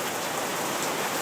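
Rain falls steadily in Las Vegas, giving a continuous, even hiss of drops on surfaces with no pauses and no voices.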